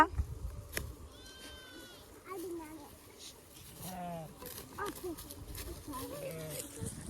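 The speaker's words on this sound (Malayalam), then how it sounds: "അത് ആട് ഇത് ചെമ്മരിയാട് അല്ലേ" Several goats and sheep bleat at intervals, some calls quavering, amid quiet farmyard noise and occasional nearby voices.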